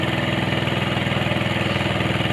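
The motor of a small wooden fishing boat runs steadily close by, a loud droning putter with a fast regular pulse and no voices.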